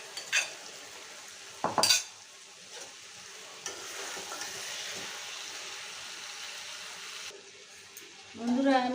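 Fried bhetki fish bones and potato tipped into spiced oil, starting a soft steady sizzle with a few sharp clanks of a utensil against the pan and a louder stirring scrape near the end.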